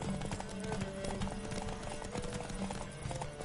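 Horse hooves galloping in The Witcher 3, a fast, steady clip-clop that continues through the whole stretch with a faint voice underneath.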